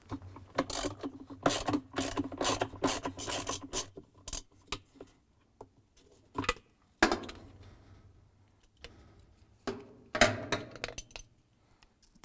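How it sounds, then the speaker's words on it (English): Ratcheting clicks and metallic scraping from a 7/16 inch long socket on a long extension breaking loose the bolt of a Whirlpool washer agitator, close and in repeated bursts with pauses between. "I'm going to use a 7/16 inch long socket and a long extension. So place it on, hold it at the bottom, and I'm going to break it loose."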